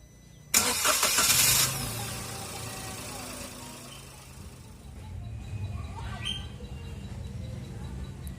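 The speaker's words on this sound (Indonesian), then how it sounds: "Langsung saja kita nyalakan mobilnya." A car engine cranks and starts with a loud burst, then settles into a steady idle and keeps running, heard while doing an engine flush at home.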